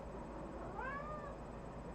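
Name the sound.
cat meowing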